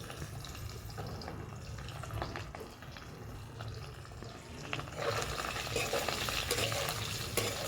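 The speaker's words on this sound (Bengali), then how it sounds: "ভালো করে একটু উল্টে পাল্টে ভেজে তারপরে জলে দেবো" Paneer frying in a pan, a steady sizzle with scraping and stirring throughout, growing louder and denser in the last few seconds.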